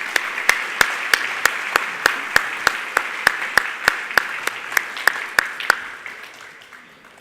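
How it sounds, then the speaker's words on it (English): An audience at a student awards banquet applauds, its dense clapping punctuated by loud, evenly spaced sharp claps close by, tapering off toward the end. "And why don't we give this group a round of applause as well."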